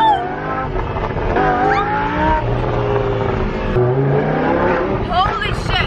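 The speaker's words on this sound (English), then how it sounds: "right now we're about to go for a ride in the Lamborghini" A Lamborghini in Dubai, heard from inside during a ride, accelerates hard with its engine note climbing in pitch through several surges, loud and close, while a passenger talks and exclaims over it.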